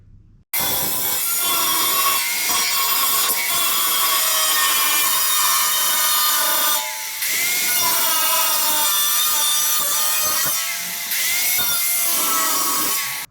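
Parts for a Harley Sportster chopper being cut by hand, a continuous rasping saw stroke that grinds on and on with only a couple of short pauses, close and loud with no talk.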